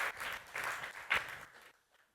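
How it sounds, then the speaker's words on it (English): A brief round of audience applause at an indie game summit for an award-winning project's creator, a short burst of clapping that dies away quickly into quiet. "give him a big round of applause"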